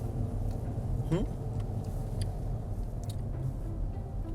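Steady interior rumble of a car driving along a road, a constant low engine and tyre drone throughout, with a brief faint squeak partway through.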